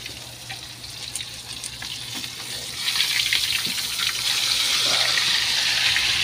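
Pork coated in egg and flour frying in a pan, a steady hiss and crackle of oil that grows louder partway through, with a watery, bubbling sizzle throughout.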